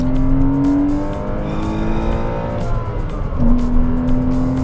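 A Porsche Cayman engine revving hard while driving, a loud, close, continuous drone that rises in pitch, drops back and climbs again through gear changes.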